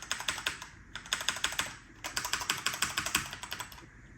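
Fingers tap away on a Macally MKey wired keyboard, a clone of the Apple A1048, in quick bursts of close, crisp keystrokes with brief pauses between runs and no voices.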